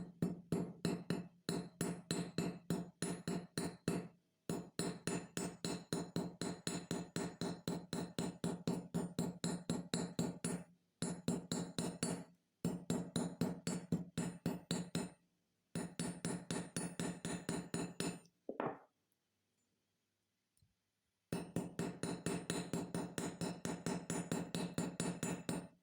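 A hammer struck on a copper cuff bracelet: a rapid, steady run of bright metallic taps in long bursts, broken by brief pauses and one longer silence.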